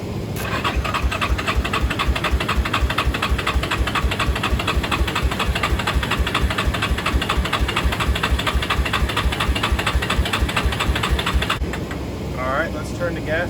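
A Yamaha 350 ATV engine, jump-started with jumper cables from a car, runs with a steady, loud, rapid knocking idle throughout, ending with a brief quieter moment at the end.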